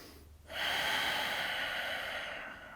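A slow, deep inhale during a yoga session, a close breathy rush of air that rises sharply, holds steady and gradually fades, with no talking.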